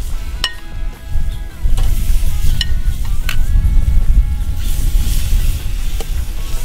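Large shrimp and steaks sizzling on a charcoal grill outdoors: a loud, continuous crackling hiss with a low rumble underneath and occasional sharp clicks.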